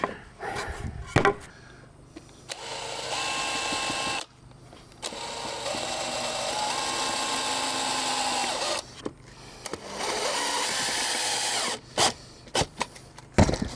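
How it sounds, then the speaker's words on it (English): A power driver sends screws into wood for a DIY bench, giving several sustained whirring runs with changing pitch, broken by brief pauses and clicks, close up with no talk. "So they actually pre-drill as you're screwing, so you don't split the wood."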